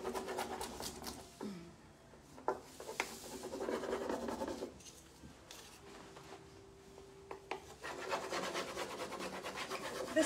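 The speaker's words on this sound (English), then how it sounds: "I just start rubbing all over it with this stick." A wooden stick rubs and scratches over a transfer laid on a painted surface, a steady, close, dry scraping that comes and goes in strokes with short pauses.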